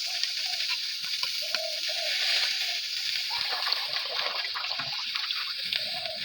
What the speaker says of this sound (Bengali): আবার একটু জল দিয়ে ফেলছি।